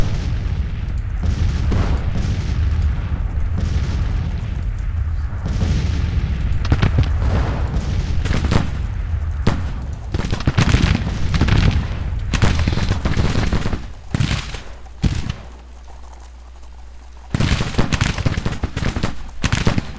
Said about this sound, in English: Alright, we got something of a firefight now.